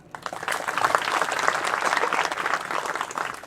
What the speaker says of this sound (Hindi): यीशु मसीह के लिए ताली मारे।